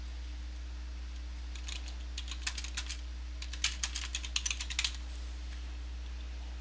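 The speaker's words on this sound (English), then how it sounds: "I'm going to go ahead and type that in as a note." Short burst of computer keyboard typing, a few scattered clicks then a quicker run of keystrokes, close and fairly quiet over a low steady hum.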